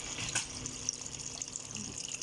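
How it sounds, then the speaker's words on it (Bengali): Water poured into a cooking pot of braised meat and potatoes, a faint, steady trickling splash lasting a couple of seconds, close and quiet. "আমি এখন পানি দিয়ে দিই,"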